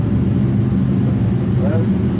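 An Airbus A320 in a flight simulator game rumbles with a steady low engine roar as it brakes after landing, continuous and close, with a person talking over it.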